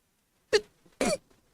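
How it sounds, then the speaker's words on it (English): One close sneeze in two quick sharp bursts, surrounded by near silence. "I'm gonna sneeze."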